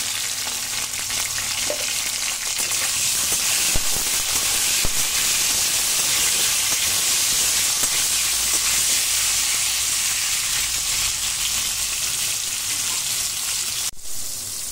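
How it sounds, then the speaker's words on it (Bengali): Pointed gourd (potol) pieces sizzle steadily in hot oil in a kadai, salted, with a continuous loud frying hiss and occasional stirring clinks, no talking. "পটলগুলো আমার ভাজা হয়ে গেছে"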